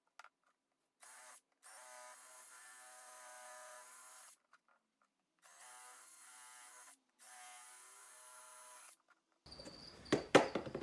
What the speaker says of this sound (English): am going to use just like a step drill bit on the end of my impact driver to do this